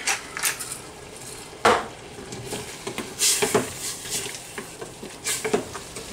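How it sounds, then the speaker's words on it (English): A wild mushroom mixture for strudel is stirred constantly in a pan over high heat. Irregular scraping clatters of a utensil against the pan ring out over a faint sizzle, close by, with no talking. "We're going to cook this until the liquid's nice and thick. It's going to take about 4 to 5 minutes on high heat. Stir constantly."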